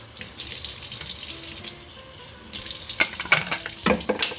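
Water runs and splashes inside a SodaStream bottle being washed with soda and a napkin, a steady rush that gives way to louder sloshing and clattering scrubbing sounds, close and alone.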